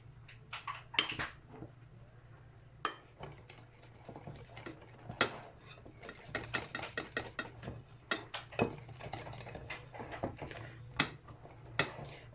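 Whole wheat flour is stirred into a sugar-free date-powder cake batter with a utensil, producing irregular clinks and taps against the bowl over a low steady hum, no voices.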